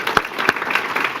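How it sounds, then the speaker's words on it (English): Audience at a medical panel discussion on treatments giving a round of applause, dense clapping with a couple of louder individual claps near the front, steady and brief, without talk. "Join me in a round of applause for the whole panel."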